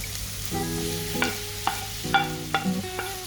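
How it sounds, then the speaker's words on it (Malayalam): Tomatoes sizzle in oil with fennel, pepper and curry leaves for a chicken roast, while a spoon stirs and scrapes the pan in several quick, close strokes over a low, steady frying hiss. "ഇനി ഇതിനകത്തോട്ട് നമുക്ക് തക്കാളി കൂടെ ഇട്ട് കൊടുക്കാം"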